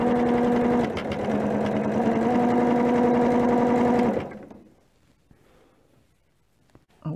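Sewing machine stitching already-quilted fabric pieces together, a fast steady mechanical whir for about four seconds that then stops, leaving near silence.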